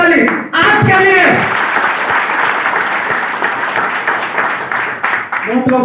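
A Hindi-speaking audience at a hotel program bursts into loud, sustained applause, dense clapping running for several seconds with brief voices at the start and end.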